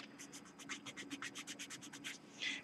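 Ink being rubbed off paper, a rapid run of soft, even scratchy strokes in a steady back-and-forth rhythm, close and fairly quiet, ending in one slightly louder rub.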